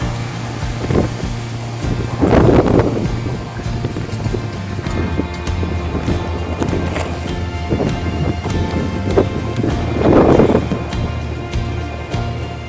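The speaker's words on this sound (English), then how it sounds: "The wind makes it difficult to start." Wind gusts outdoors during an attempt to burn out a tree stump, with a continuous loud rushing roar that swells into stronger buffeting gusts twice, close to the microphone and without speech.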